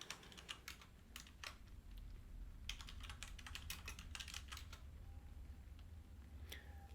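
A computer keyboard clatters under steady fingers, with irregular clusters of close, crisp keystrokes separated by short pauses, alone over a low background hum.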